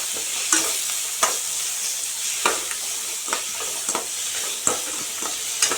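Beetroot thuvaiyal fries in a pan under a constant loud sizzle while a spoon stirs it, scraping the pan in regular strokes roughly every second. The sounds are close, with no talking.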